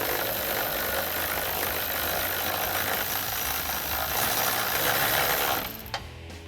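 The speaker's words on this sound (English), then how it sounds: "And then we can loosely tighten that with a 13mm socket." A ratchet with a 13mm socket tightens an M8 bolt on Jeep Wrangler JL rocker armor side steps, making a steady, continuous close-up mechanical clicking whir that stops abruptly near the end.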